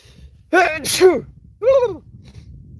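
A person lets out two quick breathy gasps, then a third sharp burst like a sneeze, close and loud against a quiet background.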